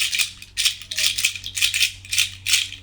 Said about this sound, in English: Here we have seed bracelets.